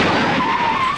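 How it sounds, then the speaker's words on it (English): A car skids in a crash, with a loud, close, sustained tire screech that fills the whole moment at steady intensity, and no voices. "I crashed my car."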